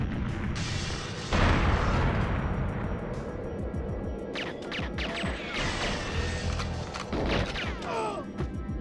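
A grenade detonates in a video game with a loud broadband boom about 1.3 seconds in, followed by rumbling debris, gunfire-like cracks and mechanical clatter throughout the scene.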